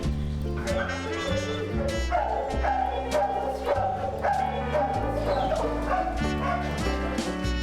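Several shelter dogs bark and yip continuously over steady background music, a busy overlapping chorus of barks throughout.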